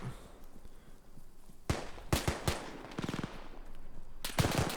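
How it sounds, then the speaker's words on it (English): Suppressing machine-gun fire rings out in the WW2 Arma 3 game Spearhead 1944, with short rapid bursts and single sharp shots at mid-distance, spread unevenly across a few seconds. "Bit of suppressing fire there."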